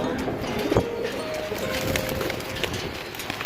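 Borga, a breeding pigeon in a loft, coos in soft low bursts close by over background noise, with a person talking nearby.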